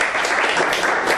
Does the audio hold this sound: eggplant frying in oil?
no